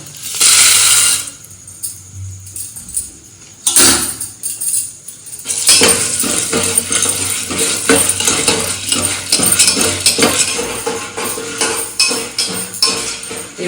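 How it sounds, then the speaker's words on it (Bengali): Dry corn kernels rattle and scrape as they are stirred in a pan for popcorn, a loud busy clatter of hard grains and metal that starts after a few brief knocks. "এবার ভুট্টা দানা দিয়ে দিচ্ছি"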